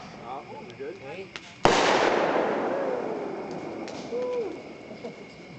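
A firework bursts in a single sharp, loud bang with a long rumbling, crackling decay, at an outdoor fireworks display; people chat faintly in the background before the blast.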